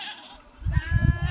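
Goats on a farm bleating in a short burst of repeated calls, fairly close and loud, with a quieter stretch of background noise before them.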